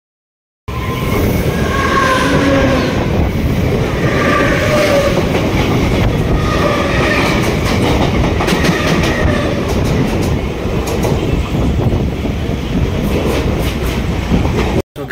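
A train rumbles steadily through a railway station for local trains, with continuous loud wheel noise, rhythmic clatter and rail hiss lasting throughout, close by and without speech.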